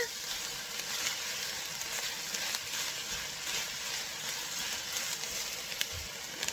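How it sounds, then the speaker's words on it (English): Jalapeno and cilantro sizzle in a hot pan while being stirred, a steady close frying hiss running throughout with faint scraping accents and no talking. "the jalapeno, the cilantro, and then I am going to stir that up a little bit and get that blended together."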